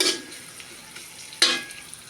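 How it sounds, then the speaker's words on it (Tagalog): Onion, garlic, ginger and chili are sautéed and stirred in a pan, giving a soft, close sizzle broken by two louder scraping stirs, one at the start and one midway. "Una ko muna sinangkot sa itong sibuyas, bawang, luya at saka sili"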